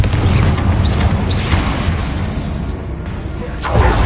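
A Confringo fire spell explodes during spell combat in the video game Hogwarts Legacy, producing a loud, sustained booming rumble that swells again near the end.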